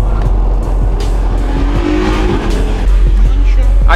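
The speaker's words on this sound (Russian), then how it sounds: "в этот раз я был в шоке от звука сивика" Turbocharged 400 hp Honda Civic racing a Mustang and a Corvette, loud engine roar with rising and falling revs and whooshing passes, close and dense, with a voice talking over it.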